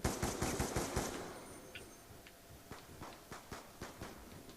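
Rapid gunfire from a 5.7 gun in a zombie video game, a quick volley of loud shots at the start, then scattered single shots trailing off more faintly.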